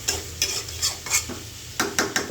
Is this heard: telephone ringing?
no